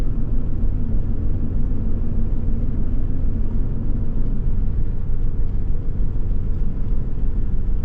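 A Toyota Land Cruiser 300 Series creeps through soft sand on crawl control, heard from inside as a steady, low engine rumble and drivetrain whir that holds constant without revving.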